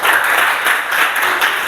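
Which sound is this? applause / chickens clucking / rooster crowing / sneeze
applause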